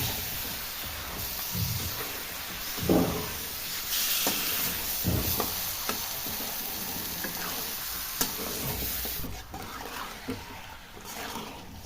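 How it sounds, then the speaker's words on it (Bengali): Chicken pieces are stirred into a sizzling spice masala in a pan for chicken jhol, with a steady frying hiss and soft scraping stir strokes recurring throughout, fairly close and alone. "এবার মশলাটা আমি চিকেনের সাথে ভালোভাবে মিশিয়ে নিব।"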